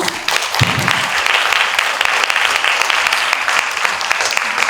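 Audience applause welcoming two authors onto the stage at an ecofeminist talk concert, steady, close clapping from a seated crowd, continuous throughout with a brief voice near the start.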